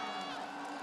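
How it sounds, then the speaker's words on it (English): Esports arena crowd at the League of Legends Worlds 2023 finale, a steady dense roar of many voices shouting and cheering, loud and continuous throughout. "I can hear the crowds are saying no."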